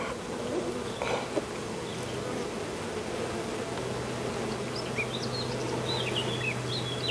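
Honeybees from a swarm housed in a hive, checked after bad weather, hum in a steady, dense drone throughout, with faint bird chirps in the background.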